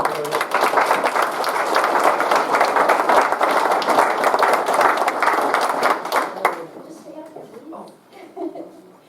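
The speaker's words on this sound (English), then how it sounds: "So let's give a round of applause to the donors and Campus Foundation." An audience at a scholarship donor reception applauding the donors and Campus Foundation, loud sustained clapping that stops abruptly near the end, followed by scattered voices and murmuring in the room.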